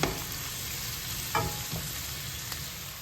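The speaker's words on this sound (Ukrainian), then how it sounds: "Рибу з креветками ретельно підсмажую з цибулею та часником." Fish and shrimp frying with onion and garlic in a pan for seafood in cream sauce, a steady close sizzle with a few soft utensil scrapes and clicks, no talk.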